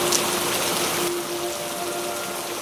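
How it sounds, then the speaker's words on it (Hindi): Steady rain falls throughout on a dark night near a hut, a dense continuous hiss with a faint steady tone running beneath it. "इस बारिश में तो निकलना ही ठीक नहीं रहा।"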